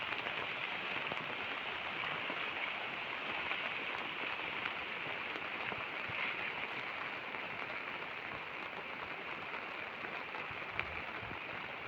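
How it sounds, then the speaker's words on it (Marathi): Steady rain pattering on surfaces outdoors during a coastal Konkan crab-catching outing, an even, continuous hiss with no talk over the whole stretch. "तर पावसाने पण सुरुवात केलेली आहे,"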